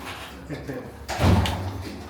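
A door swings shut with a short swish and a muffled thud, close by and fairly loud, while a voice speaks around it.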